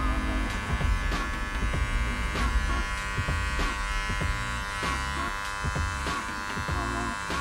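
Hair clippers buzz steadily while cutting curly hair over a comb for a bald fade, with a constant electric hum broken by frequent small clicks and snips up close.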